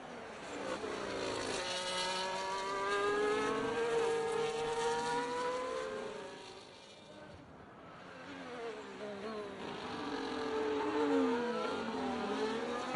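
An F1 race car in a racing video game drives a lap of the British GP, its engine whining and rising through gears, then fading briefly before surging up again, steady and close.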